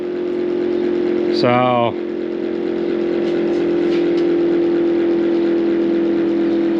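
A John Deere A tractor engine runs at a steady idle, a constant low hum with a brief rising tonal whine early on, while people talk nearby.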